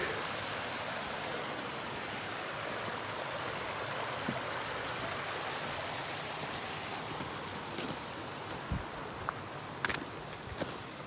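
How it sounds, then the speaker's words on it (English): A small cascade on a mountain creek in Banff backcountry gives a steady, soft broadband rush of falling water, faint and even throughout, with a few light footsteps or clicks near the end. "Nice little cascade on the creek."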